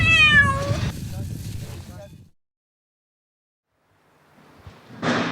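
A cat gives a loud, drawn-out meow close up, followed by a stretch of silence, then rising noise with a sharp burst at the end.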